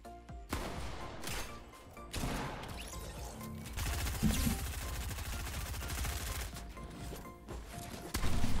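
Rapid bursts of video game gunfire with sharp cracks and impacts, fairly close and loud, with a few brief pauses between volleys and no talking.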